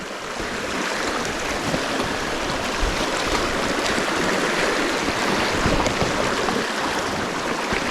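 A trout stream in North East Victoria rushes over riffles and pocket water in a steady, close, broadband wash. It stays even and continuous with no talking.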